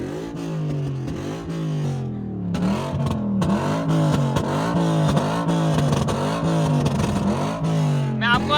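A loud Mustang GT heard from inside the cabin, its exhaust booming through repeated rising and falling revs in wavy sweeps, with a brief dip before it surges again, close and dominant.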